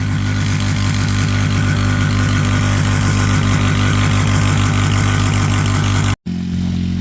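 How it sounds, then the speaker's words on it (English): A Chinese-made small engine runs loudly and steadily up close with a constant throbbing drone, then cuts out briefly for a split second before resuming. "This engine is a Chinese engine too, not like a Honda or an older Briggs or something"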